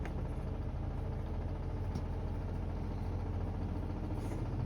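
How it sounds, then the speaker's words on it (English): A household washing machine runs in the background with a steady, low mechanical hum and rumble that holds evenly throughout, with no voices over it. "I really don't know if you can hear me with my washing machine going in the background."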